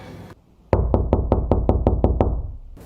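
Nine quick, evenly spaced knocks on a door after a short pause, loud and close.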